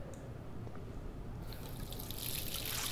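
Sink tap in Life is Strange running water, a soft trickle that swells into a brighter, louder gush partway through, close and alone.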